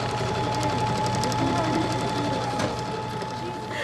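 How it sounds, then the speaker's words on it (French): A sewing machine runs steadily in a school setting, a continuous mechanical whir with a faint high tone, while voices talk quietly underneath throughout. "je te laisse retourner travailler auprès de ta machine à coudre"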